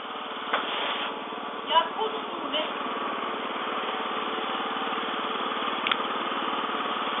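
A Japanese moped engine idles steadily while warming up in winter, a close, even, buzzing drone, with a few brief knocks near the start.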